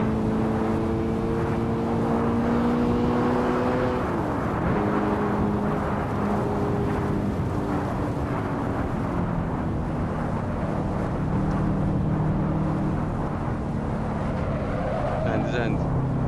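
A race car engine in the Assetto Corsa driving game roars loudly and constantly, its pitch climbing and then dropping sharply at a gear change, with a voice talking over it.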